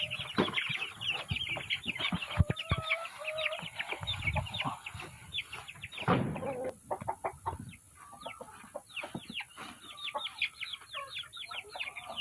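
Chickens, including Lohmann and Sussex hens, cluck and squawk busily on a farm plot in Malaysia, a dense, overlapping chorus of near and farther calls with a few brief rooster-like cries mixed in.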